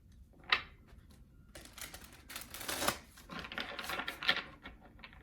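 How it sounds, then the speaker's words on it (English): Soft papery riffling and light clicks of tarot cards being shuffled, with a few sharper snaps, fairly quiet and close. "We get one more shuffle and we will get started."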